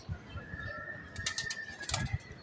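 Saharanpuri pigeons on a rooftop flap their wings in several short bursts close by, along with faint cooing and a thin steady whistle in the background.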